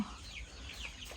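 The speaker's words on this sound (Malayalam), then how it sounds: "അവിടെ കോഴിക്കുഞ്ഞുങ്ങളൊക്കെ വലുതായിട്ട്" Grown young chickens cluck nearby in a short, clear burst of repeated clucks, fairly loud and alone without any voices.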